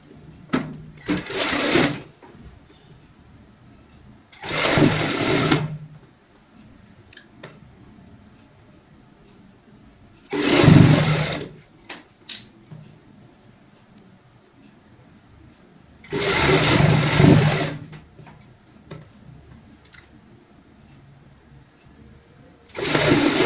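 Sewing machine stitching a strip onto a doormat made from old clothes, running in four separate bursts of a few seconds each with quiet pauses between them.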